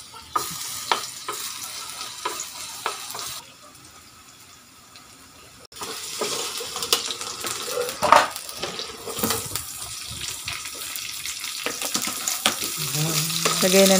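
Garlic sautéing in cooking oil in a pan, a steady sizzle and frying hiss with occasional stirring and clinks, loud and close throughout with a brief quieter stretch in the middle.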